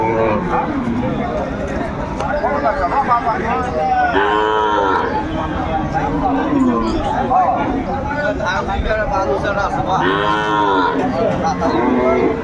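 Cows and calves moo loudly twice, several seconds apart, over a busy background of crowd chatter and milling people at Aftabganj cattle market, Dinajpur.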